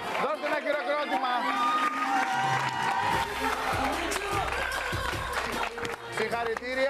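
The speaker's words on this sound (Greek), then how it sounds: "Δώστε ένα χειροκρότημα." Studio audience at a Greek TV game show claps and cheers, a loud crowd roar with music-like tones layered over it and lively activity underneath, sustained throughout.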